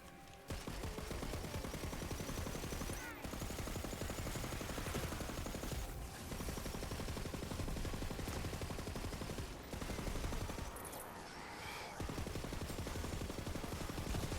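Sustained gunfire from a heavy gun in a video game, a dense continuous barrage of rapid shots running almost the entire time with a few brief gaps, loud and close, with no talking over it.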